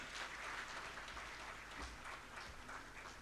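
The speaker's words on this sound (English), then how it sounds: "A big round of applause for him as well." A crowd at a conference inaugural ceremony claps steadily and evenly, the applause sounding somewhat distant and soft, with no voices over it.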